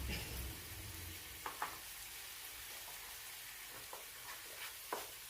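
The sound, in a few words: curry boiling in pan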